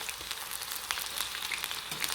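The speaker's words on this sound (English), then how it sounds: "Okay, so I'm frying them on a low flame," Chicken pieces frying in oil over a low flame, a steady, close, even sizzle and crackle with scattered small pops, no talk.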